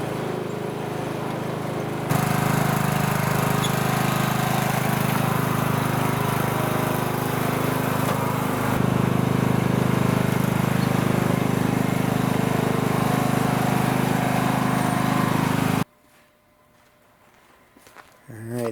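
A Craftsman 917 lawn tractor engine drives with a steady, loud drone, stepping up in intensity after a couple of seconds and then cutting off abruptly near the end.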